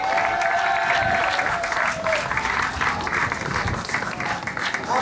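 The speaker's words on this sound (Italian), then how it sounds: "Un applauso per il nostro Giuseppe." A large crowd applauds loudly and steadily for a podium winner at a slalom race in Oppido Mamertina, dense sustained clapping filling the whole stretch with no pause.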